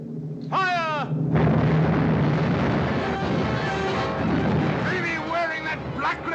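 Ship cannons fire during a movie sea battle, a dense roaring barrage of booms and rumbling blasts that runs through most of the clip, with shouted voices and cries at the start and near the end.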